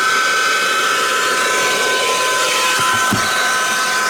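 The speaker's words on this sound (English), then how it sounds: "This it's a rechargeable little car vacuum." A Brigii rechargeable handheld car vacuum runs with a loud, steady motor whine and airy rush that stays constant and close throughout, with a couple of faint clicks near the end.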